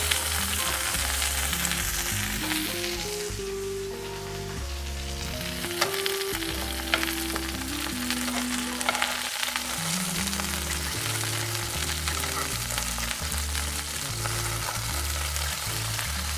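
Beef steak with garlic frying in a pan and being basted with aromatic oil, giving a steady sizzle throughout under continuous background music.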